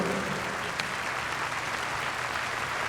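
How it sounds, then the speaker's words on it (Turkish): Dense, even applause from an audience as a guest is invited onto the stage, a steady wash of clapping at constant loudness with no voices over it. "Alkışlarınızla sahneye davet ediyorum."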